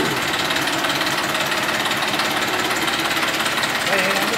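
A 2019 Massey Ferguson 1035 DI Maha Shakti tractor engine running, a loud, steady diesel drone with rapid knocking pulses, close up and continuous with no pauses.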